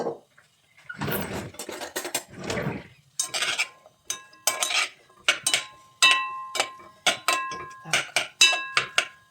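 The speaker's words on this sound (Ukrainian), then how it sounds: "Кидаю моркву. І все зараз перемішаємо, хай воно трошки підсмажиться." Carrots are stirred with a utensil into a pan of onion for pumpkin soup, giving a quick run of sharp metallic clinks and scrapes against the pan, close and fairly loud, after a stretch of talking.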